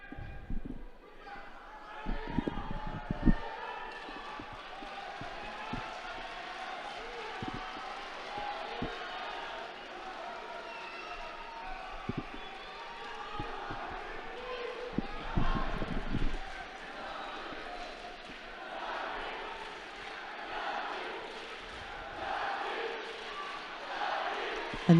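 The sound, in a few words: home crowd cheering at judo championship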